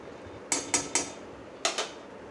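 A spoon clinks against a pan while curd and boiled potatoes are stirred on a gas stove: five short metallic knocks in two quick groups, close and fairly loud, with no talk.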